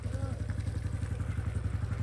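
A motorcycle is ridden while a young woman learns to ride it. Its engine keeps up a steady, fairly quiet pulsing throb throughout.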